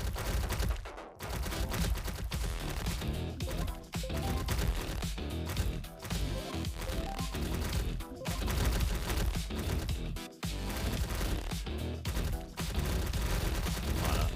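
Relentless gunfire from turrets and units in Glowbot Tower Defense, dense rapid shots pouring out almost continuously, with a few brief dips, loud and close under a busy game mix.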